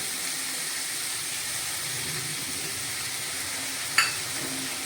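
Spring onion bhaji with turmeric, salt and crushed peanuts sizzles steadily in a pan, a constant hissing fry with faint stirring and a single sharp metallic clink near the end.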